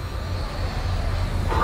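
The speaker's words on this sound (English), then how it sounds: "We're on a plane. We're flying in the sky!" Airplane flying in Saints Row 3, a steady droning engine hum with a constant low rumble and no breaks.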